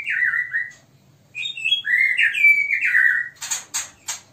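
White-rumped shama chicks in a breeding cage call with loud, close whistled chirps, rising and falling in short bursts, then a few sharp, raspy squawks at the end.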